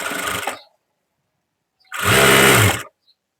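A sewing machine stitches blouse fabric in two short, loud, close runs of whirring motor hum, the first trailing off and the second about a second long after a silent gap, with no voices.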